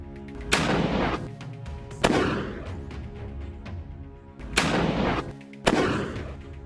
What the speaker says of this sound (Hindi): हमास का एक लड़ाका दूर बिल्डिंग से उसके ऊपर स्नाइपर राइफल फायर कर देता है